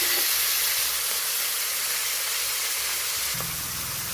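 Hot oil sizzles and hisses steadily as slit green chillies and grated onion hit a pan of tempering spices, a loud, continuous close-up crackle with a faint clunk near the end.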